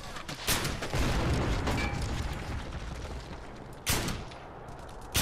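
Gunfire crackles in sustained bursts in a World War II shooter game, with sharp loud cracks near the start, around the four-second mark and at the end, over a constant battle din.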